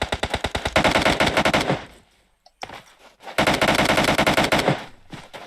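Rapid automatic gunfire in a competitive trios shooter match, two loud, sustained bursts of close fire separated by a short quiet gap.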